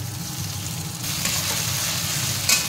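Ginger garlic paste sizzles in hot oil with a loud, close, continuous crackle. A brief scrape or clatter of a utensil comes near the end.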